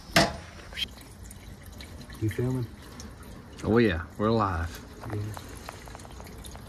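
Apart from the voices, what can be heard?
water poured into 1967 Chevy van radiator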